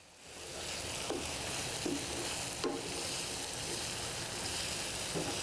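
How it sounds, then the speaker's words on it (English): Balinese bumbu genep spice paste cooks slowly in a pan over lowered heat, giving a soft, even sizzle. A spoon scrapes through it every second or so. The sound is fairly quiet, with no speech. "Keep stirring. I think it's about 10 minutes, and turn it down the heat little bit, and so they cook slowly"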